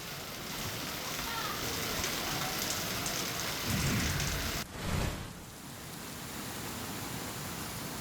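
Heavy rain falls steadily on a city during a red-alert monsoon downpour, a dense, even hiss throughout with a brief low rumble midway and no voices.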